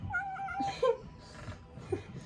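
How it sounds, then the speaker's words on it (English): A cat meows a few times up close, short whiny calls with a brief higher chirp, over a quiet room. "That's my cat."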